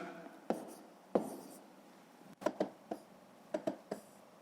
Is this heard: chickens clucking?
no